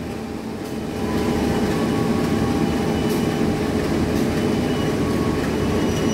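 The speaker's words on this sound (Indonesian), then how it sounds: "Kereta api Singosari." The Singosari non-subsidised economy train passes close by, a loud, continuous rumble of carriages with rhythmic wheel clatter that swells after the first second and stays steady.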